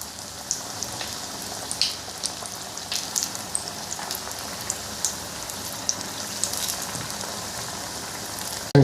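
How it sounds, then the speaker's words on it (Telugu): Small pieces of raw plantain frying in hot oil give a steady, close crackling sizzle with scattered sharp pops throughout, and no voices. "ఈ విధంగా డ్రై ఫ్రై చేసుకున్నాం"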